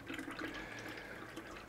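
Water poured from a watering can onto a houseplant such as a calathea or maranta, a steady close trickling splash with no pauses.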